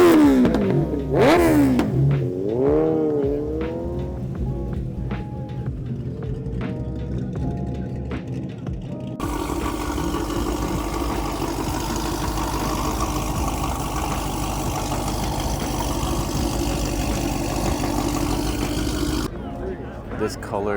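A Lamborghini Revuelto V12 at a large monthly car show revs with rising and falling pitch, then settles into a steady loud idle, with people talking nearby.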